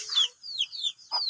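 A hen on a rural Filipino homestead gives a few short, close clucks and chirpy calls in quick succession, with no talk over them.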